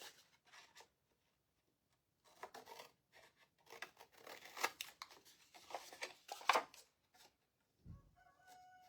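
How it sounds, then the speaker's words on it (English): Scissors snip close around a handmade Christmas star craft piece, a series of quiet, short cutting crunches in scattered bursts separated by silence, ending with a faint low thump. "I'm just going to cut as close as I can."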